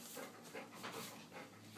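Dogs panting inside a house, soft rhythmic huffs repeating close by at a low level over a faint steady hum, with no talking.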